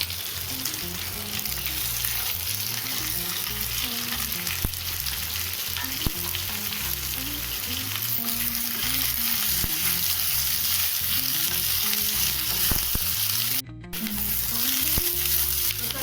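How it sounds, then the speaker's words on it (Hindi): Capsicum and onion sizzle in a hot pan for a Chinese-style dish, a steady bright frying hiss with a faint repeated scrape of stirring. It carries on unbroken, with one brief dropout near the end. "शिमला मिर्च और प्याज को भी अच्छे से सौटे कर लेंगे।"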